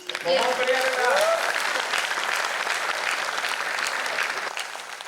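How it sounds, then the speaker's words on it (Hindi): A poetry recital audience breaks into steady, dense applause that holds evenly for several seconds and thins slightly at the close, with a brief voice at the start. "आपकी तालियों से उत्साहवर्धन चाहूंगी।"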